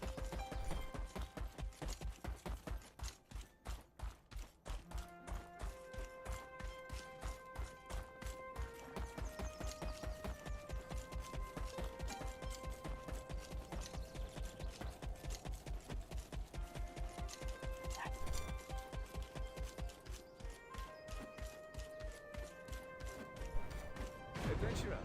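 Horse hooves gallop in a fast, steady clip-clop rhythm in Black Desert Online, loud and close, with a few heavier thuds, a brief whinny and faint game music tones underneath.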